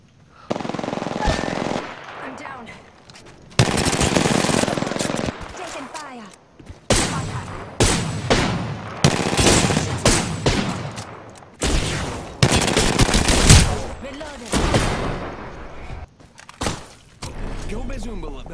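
Bursts of automatic gunfire from an RE-45 and other weapons ring out in an Apex Legends fight, rapid volleys separated by short gaps, loud and close, with players talking over the shooting.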